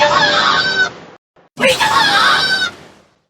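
A synthetic, screechy Laserbird ability effect from a prototype Angry Birds Space, with shifting harmonic squeals, cut by a short gap before a second burst that fades out.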